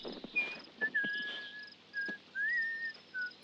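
A character whistles in the video game Dordogne: a quiet series of short, clear whistled notes, some held and gently bending in pitch, with faint game ambience between them.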